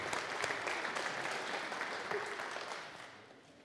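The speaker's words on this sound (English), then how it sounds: "Let's give them another round of applause." A church congregation applauds children who led a midweek Lent worship service, a dense, steady wash of clapping that fills the room and tapers off toward the end.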